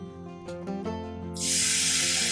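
Garlic ginger paste hits hot oil in a pan, bursting into a loud, steady broadband sizzle that rises sharply partway through and holds close and bright to the end, following a few quieter moments of background tones.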